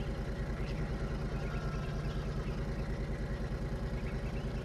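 A Kenworth truck's diesel engine idles steadily in Farming Simulator 2013, a loud, continuous low rumble with an even, rapid pulsing throb and no talk.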